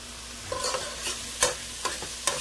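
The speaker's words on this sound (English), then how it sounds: "And you just keep stirring it." Tomato paste being stirred in a pot, a soft background sizzle broken by several sharp scraping clinks of a spoon against the pot at uneven intervals, close and moderately quiet.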